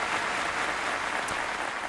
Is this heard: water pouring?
no